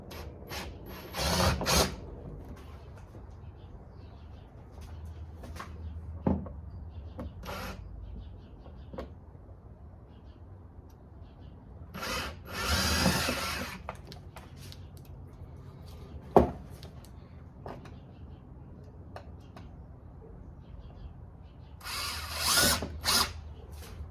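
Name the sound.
drilling a hole for a Honda Accord underbody spoiler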